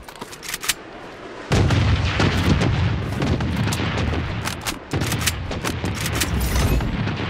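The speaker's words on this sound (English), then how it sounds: "bombardment on its way." An artillery bombardment rolls through the video game Bloodstrike, with heavy booms and a dense, continuous barrage of blasts and crackling impacts, loud and close, briefly dipping once before resuming.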